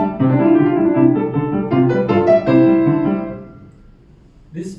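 Solo piano plays the opening theme of Casella's Galop Final, a Grade 6 exam piece, with bright, lively chords and melody for about three seconds before the sound decays to near silence, followed by a brief soft noise.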